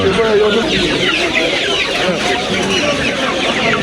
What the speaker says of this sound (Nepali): यो चाहिँ लोकल कुखुरा है।